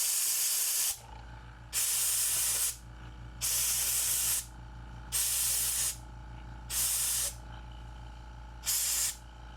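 Compressed air blasting excess lubricant off a part of an Ambassadeur 4500CS fishing reel, six loud hissing bursts of about a second each, evenly spaced, over a steady low hum.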